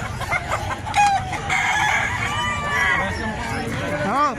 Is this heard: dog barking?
no